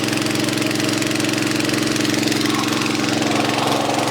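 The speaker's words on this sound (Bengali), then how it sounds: "এটা পেট্রোল ইঞ্জিন একটা।" A China Honda 7.5 HP petrol engine driving an irrigation water pump runs steadily and loudly at close range, with a constant droning hum and a fine rapid knock, and no one speaks.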